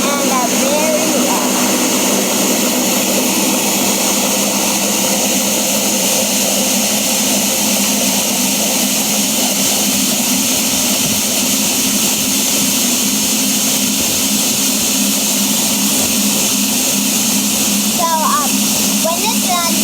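A blender whirs steadily as it purees tomato gazpacho, a loud, continuous motor drone with a rough, grinding texture that holds level throughout.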